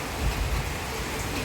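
Rain falls steadily, an even broadband patter and hiss that stays constant and fairly loud throughout.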